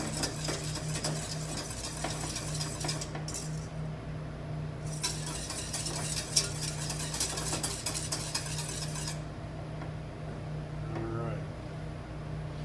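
A whisk beats an egg yolk and cream liaison rapidly into a velouté sauce, giving continuous faint metallic clinking and scraping against the pan beneath a steady background hum, with speech in the room.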